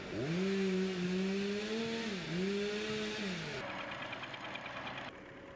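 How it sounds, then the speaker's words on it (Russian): Chainsaw running near a forest in Ukrainian Polesia where amber is mined, a steady droning whine that rises and dips in pitch, fairly loud and continuous, then drops into a rougher idle. "Во время интервью мы то и дело слышим звук бензопилы"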